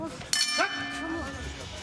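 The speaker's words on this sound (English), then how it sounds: "The bell and round two, and again Mike Hamel explodes out of his co" A single bright metallic bell strike opens round two of a lightweight MMA bout, ringing with a decaying tone, while a referee and commentator talk around it.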